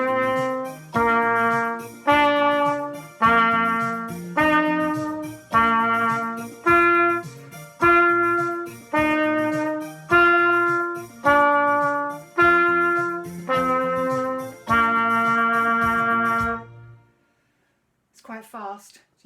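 A trumpet interval exercise backing track: sustained brass-like tones step through paired notes over a steady accompaniment, each phrase held briefly, then stops; a short voice follows.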